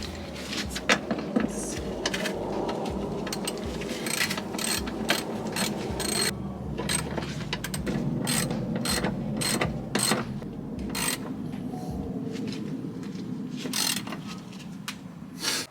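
A bolt being tightened by hand on a car engine during a spark plug, fuel filter and ignition module job, giving repeated ratcheting clicks and metallic mechanism noise at close range over a steady low hum, with no talking.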